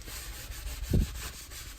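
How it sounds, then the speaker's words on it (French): Scrubbing strokes on a dirty electric cooktop hob plate during cleaning, soft rubbing friction close up, with one louder scrape near the middle, no talking. "Et on frotte."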